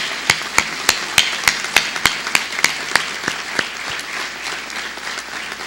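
Scattered, crisp handclaps from a small group at a university academic recognition ceremony ring out one by one, loud at first and gradually thinning and fading.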